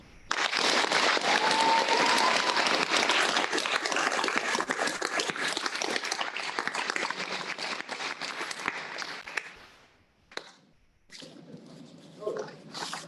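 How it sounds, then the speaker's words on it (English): An audience at a school celebration gives the 2020 senior class a sustained round of applause, dense and loud clapping that thins out near the end with a few scattered claps and light crowd noise. "would everyone join me in giving the 2020 senior class a round of applause"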